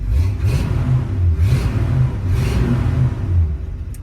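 A 1971 Buick Skylark Custom Coupe's original 350 V8 with four-barrel carburetor idles close by, a loud, deep, steady rumble with a slight rhythmic lope and a few mild swells, no talk.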